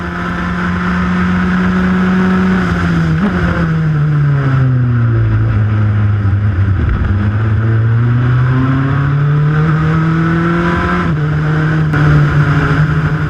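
Race car engine at Laguna Seca, loud and close, with a steady high drone that drops and then rises again as the car accelerates through corners and up through the revs, with no talk.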